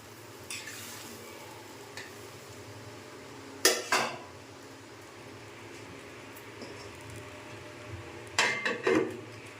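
A metal lid clanks onto a cooking pot of vegetable curry in a home kitchen, with a few sharp clatters and scrapes of cookware coming in separate clusters over a quiet background.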